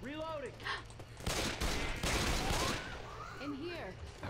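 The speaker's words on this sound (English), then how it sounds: "Can you stop shooting me?" Gunfire fills a round of the video game Left 4 Dead, a dense volley of rapid shots in the middle of the clip, with excited voices talking over the shooting at its start and end.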